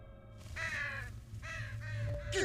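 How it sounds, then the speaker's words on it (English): Crows cawing in the horror video game Saint Kotar, three harsh caws in a row over a low, steady rumbling ambience, fairly close and loud, with a final call rising at the end. "Again, the damn crows!"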